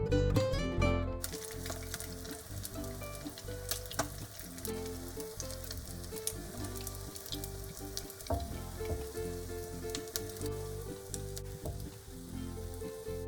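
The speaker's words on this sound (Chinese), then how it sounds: "再炸另一半。" Yellow croaker fish frying in hot oil, a continuous dense sizzle with crackling pops throughout, close and steady, no voices.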